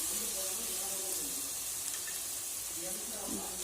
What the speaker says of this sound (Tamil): சேர்த்து இந்த தக்காளியும் நல்லா வதங்கட்டும்